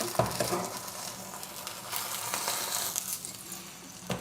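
An egg and bread fry in olive oil in a pan, a steady close sizzle with scraping as a spatula slides underneath and flips it, a few clinks along the way, no voices.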